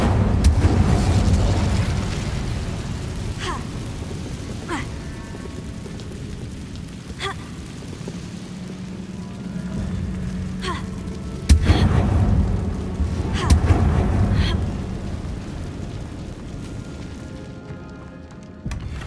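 An Incendio fire spell cast in Hogwarts Legacy: a series of booming, rumbling bursts with crackling hits, layered over a steady low roar of ambient game sound, two stronger blasts standing out near the middle.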